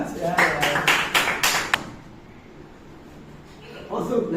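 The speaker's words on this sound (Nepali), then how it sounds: "ताली बजाउनु" Someone claps their hands during a helmet game, about six sharp, evenly spaced claps in quick succession that then stop, followed by a quieter stretch, with voices talking over the claps.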